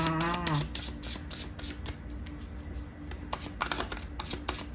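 Tarot cards being shuffled by hand, a run of quick papery riffles and flutters in bursts, close and moderately loud with no talk.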